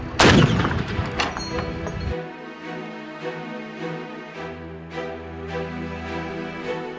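Artillery firing high-explosive shells in a World War II wargame battle soundscape: a loud, close booming blast at the start, followed by fainter echoing reports and rumbling impacts spaced across the following seconds.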